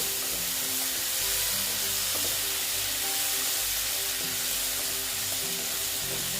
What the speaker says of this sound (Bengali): আর এই যে দিয়ে দিলাম হলুদ দিয়ে আবার এইভাবে কষিয়ে নেব